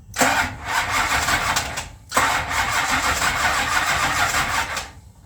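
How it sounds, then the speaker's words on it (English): A Plymouth Roadrunner with a sparking ignition and suspect timing cranks over twice, each a loud, rapid chugging of the starter lasting under two seconds, separated by a short pause, turning over without catching. "Let's give it a crank"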